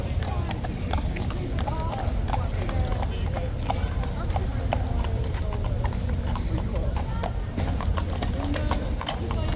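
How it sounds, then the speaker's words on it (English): Police horses clip-clop along a street in a dense run of sharp hoof strikes on hard ground, close and steady, with people talking over the hooves throughout. "police horses incoming"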